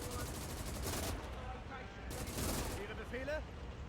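Bursts of MG42 machine-gun fire in a WWII Battle of Arnhem 1944 game battle, dense rapid volleys from near and far with distant explosions, continuous through the clip.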